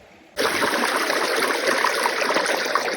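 A swollen, flooded stream rushes loudly and steadily, a dense close-up roar of water that starts abruptly after a brief quiet moment and continues without a break.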